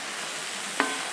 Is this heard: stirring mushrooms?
yes